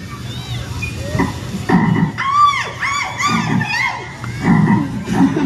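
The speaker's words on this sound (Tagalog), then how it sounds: "Laki ng palaka." Loud frog croaks come in bursts, with high, whistling calls layered over them and a busy outdoor background.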